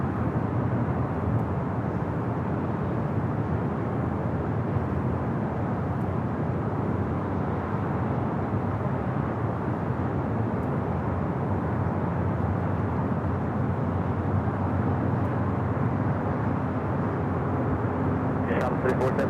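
An EVA Air airliner crosses runway 24 left at LAX, heard as a steady, distant roar of jet engines and broadband noise that holds level throughout.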